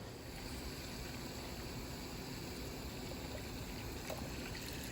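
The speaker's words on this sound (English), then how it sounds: "we're just gonna fill this up with water" Tap water streams into a pot of eggs, a soft, steady trickling and splashing that continues evenly throughout at low volume, with no voices.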